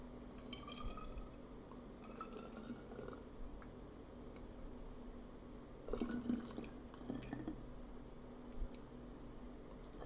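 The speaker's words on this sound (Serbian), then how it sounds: "sipat ću sok u flaše" Juice is poured into sterilised glass bottles, heard as quiet trickling and dripping liquid with a few brief clinks and splashes near the end, all faint.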